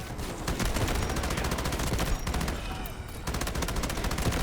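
Rapid LMG M249 fire in the video game Delta Force rattles out in dense, continuous bursts with brief pauses, loud and close, layered with other battlefield gunfire.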